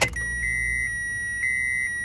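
A Honda Civic's fuel pump primes as the ignition key is cycled on, giving a steady high electric whine with faint pulsing, following a brief click at the start, in a quiet interior with no talk.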